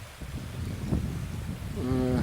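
Fresh mountain stream water flows in a steady rushing wash, fairly close, with a few brief tonal sounds rising over it toward the end.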